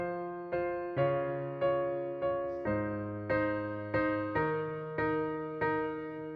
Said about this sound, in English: let's learn that recognizable piano part